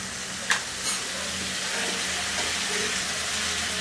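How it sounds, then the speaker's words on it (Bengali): Spice paste sizzles and fries in a pan for an eggplant dish, with a constant close hiss and a few soft stirring scrapes early on. "মশলাটা 3-4 মিনিট ভালো মতো ভুনে অল্প মশলা জলদি হয়ে যায়"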